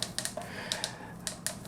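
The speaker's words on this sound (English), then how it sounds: "Ratchets, let's see how far we can take this out." Ratchet leg joints on a Hot Toys Spiderman Advanced Suit figure click in a quick series of crisp, close ratcheting snaps, evenly spaced as the leg is swung, with no speech.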